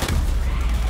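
A grenade explodes in the video game Borderlands, a short, loud, booming blast with a rumbling low tail lasting under a second.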